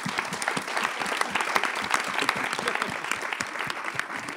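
Sustained audience applause at an awards showcase for music video makers and a panel, dense steady clapping filling the room with no voices over it.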